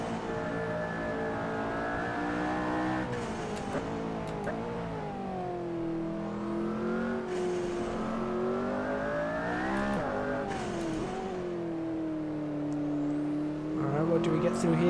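McLaren P1 engine in the Assetto Corsa racing game, a high revving wail that climbs and drops through gear changes over a lap, steady and prominent with brief shift breaks.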